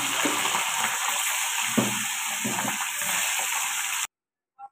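Pomfret fish frying in hot oil in a wok, a continuous close sizzle with soft bursts, cutting off abruptly near the end, followed by a brief faint sound.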